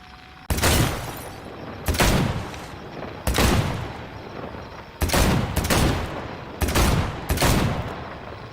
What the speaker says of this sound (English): This gun doesn't even shoot straight.